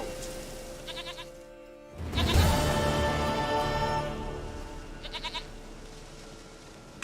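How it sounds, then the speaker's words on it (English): A goat in The Witcher 3 video game bleats in short wavering calls, first faintly, then a louder bleat over a steady ambient game background, and again near the end. "Goat of mine, dearest, sweetest goat."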